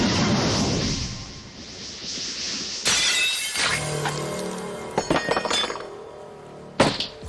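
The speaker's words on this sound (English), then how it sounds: "2 of his swords got shattered" Swords shatter mid-fight in a One Piece anime duel as Zoro loses: a burst of sharp glassy breaking and clinking metal fragments, followed by scattered tinkling debris and a final loud crack near the end.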